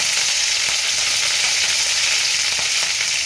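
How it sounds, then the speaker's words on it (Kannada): Curry leaves fry in hot oil in a pan for a banana stem stir-fry, a close, steady crackling sizzle with faint stirring clicks and no voices. "ಅದನ್ನು ತೊಗೊಂಡು ಈ ಕರ್ಬೇವಿನ ಸೊಪ್ಪು ಹಾಕ್ಕೊಳ್ಳೋಣ. ಚೆನ್ನಾಗಿ ಫ್ರೈ ಆಗಲಿ."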